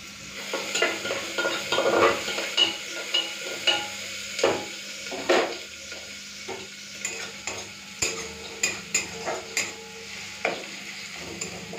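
Onion, green chili and panch phoron frying in hot oil in a pressure cooker, with a steady sizzle and repeated scraping stirs of a utensil against the metal, recurring in a loose rhythm.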